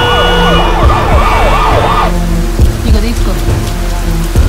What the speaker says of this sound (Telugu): అంబులెన్స్ సౌండ్ వినిపిస్తుంది కదా.